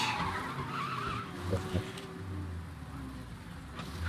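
Car tires skidding and squealing while parking in Mafia Definitive Edition, a rough screech with a short burst midway, heard over a low engine hum and quiet game background.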